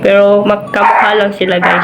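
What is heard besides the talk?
dog barking in the house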